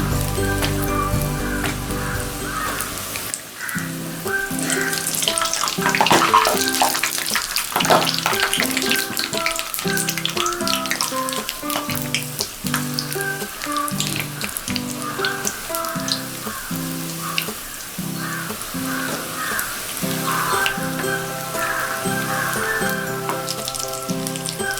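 Pondicherry-style chicken balls deep-fry in oil, a dense, close crackle like rain on a surface that runs steadily for over twenty seconds after a brief low rumble at the start, with no voices.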